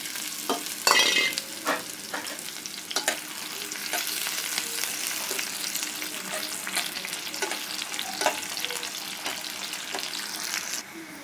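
Boiled beef tripe sizzles steadily in hot oil in a wok, with intermittent scraping and stirring clatter, a sharp knock near the start, and no talking.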